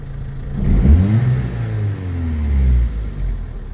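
A 2.4-litre ZX Auto Grand Tiger pickup engine with a rough idle revs up from idle, rising in a loud close roar, easing briefly, then climbing again before settling, with no voices.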